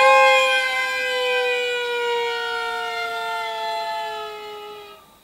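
A tango sirena effect, likely bowed strings sliding downward: a sustained two-note glissando slowly falling in pitch and dying away over about five seconds, loud and alone, fading at the end.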